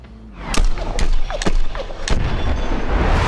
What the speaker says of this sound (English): See? Explosions.